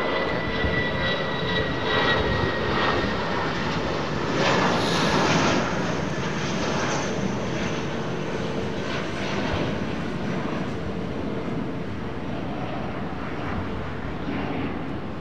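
Airliner engines at London Heathrow Airport during taxiing, a loud, steady jet rumble and whine that swells slightly early on and then holds constant throughout.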